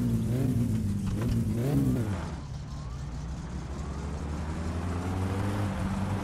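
The Satsuma car engine in the video game My Summer Car revs hard in repeated rising and falling bursts, then settles into a steady loud idle drone, heard close with no talking.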